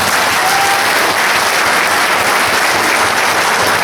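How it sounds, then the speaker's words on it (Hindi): Loud, continuous crowd applause at a gathering honouring a fellow worker who spent fifteen days in jail, dense clapping from many hands sustained evenly without pause. "जोरदार तालियां बजाओ उसके साथ"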